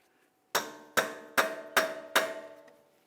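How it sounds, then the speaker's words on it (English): A hammer striking a punch against a front axle to free it from the wheel bearing on a 2015–2024 Jeep Renegade: five sharp metallic taps, evenly spaced about every 0.4 seconds, close and ringing, with nothing else heard. "This is where we're going to start tapping on this. We want to break the axle free from the wheel bearing."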